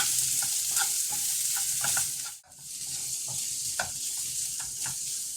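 Onions with salt sauté in a pan for crab curry, a steady close sizzle broken by stirring scrapes and a brief dip midway.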